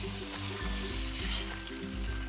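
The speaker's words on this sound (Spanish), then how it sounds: "Y después vamos a freír el huevo" An egg frying in hot oil in a pan gives a steady soft sizzle, with a low repeating hum running underneath throughout.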